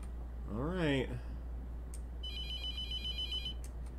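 An electronic telephone ring chimes steadily in The Mortuary Assistant horror game, a bright repeating tone lasting a second or so after a brief burst of speech, set over a constant low hum.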